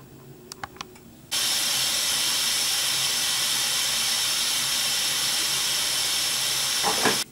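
A Cookeo electric pressure cooker, locked shut over mushroom risotto, gives a few small clicks before a loud, steady hiss starts and runs unbroken almost to the end.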